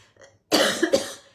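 A single close, forceful cough with a short rough burst, after a moment of near silence.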